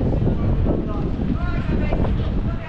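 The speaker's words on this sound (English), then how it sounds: "it's freezing, it's windy" Strong wind buffets the microphone in Blackpool town centre on a freezing day, a loud, continuous blustery roar of gusts.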